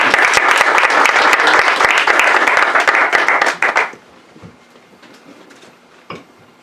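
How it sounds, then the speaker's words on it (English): An audience at a Black History Month program claps and applauds loudly and steadily for a poetry presenter, and the applause stops abruptly after about four seconds, leaving a quiet room with a few stray claps. "Give him a hand clap."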